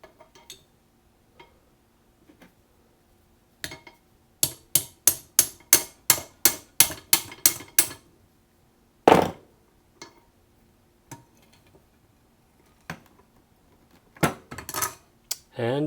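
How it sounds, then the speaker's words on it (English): A tool taps a nylon radius arm bushing out of a classic Mini, giving a fast burst of about ten bright metallic taps, then a single louder hit, then a few scattered knocks and a final short flurry. "So now it's just a matter of tapping it all the way through."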